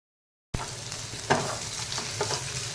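Onion frying in a pan for a Marathi-style methi matar malai, a steady close sizzle after a brief silence, with a couple of stirring scrapes and clinks cutting through the crackle.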